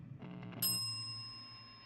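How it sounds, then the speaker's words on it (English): A small bell rings once with a bright metallic ding that decays slowly, following a few soft muffled knocks. "Ring the bell."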